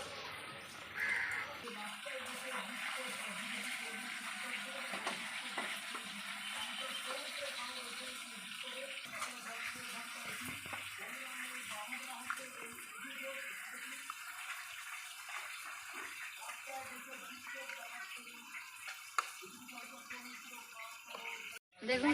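Milk being poured into an ice cream box gives a steady liquid trickle and splash lasting about twenty seconds, fairly quiet and close, while a voice talks over it.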